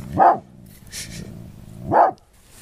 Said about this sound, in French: Nachos, le chien du marais, le, garde, le chien de garde.